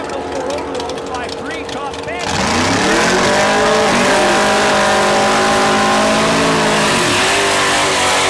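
A white Dodge drag car launches hard off the starting line at Saskatchewan International Raceway: its engine jumps to a loud, sustained roar with rising revs and tire squeal, and a track announcer talks over it.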